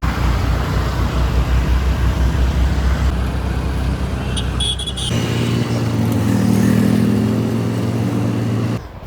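A two-wheeler rides through a road traffic jam, a continuous engine drone and traffic rumble that shifts pitch midway as the vehicle changes pace, loud and close throughout with no talking.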